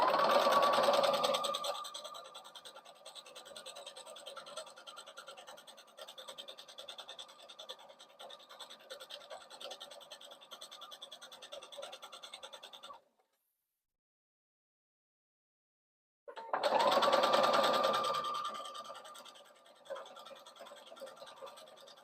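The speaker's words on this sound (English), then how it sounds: "When you're sewing both sides of the strap, sew 3/8 of an inch along each side." A sewing machine runs in a steady, whirring stitch along both sides of a crossbody bag strap, close and fairly quiet, stopping for a few seconds of silence before starting up again.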